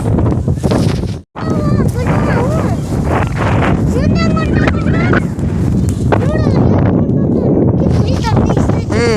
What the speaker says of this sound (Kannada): ಭಾರಿ ಗಾಳಿ ಐತಿ